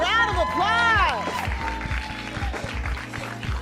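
Applause at a wine tasting raffle, a crowd clapping briefly and loosely under a loud voice calling out, with a scattered patter of hands continuing faintly afterward.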